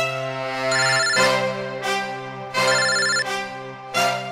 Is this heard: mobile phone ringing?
yes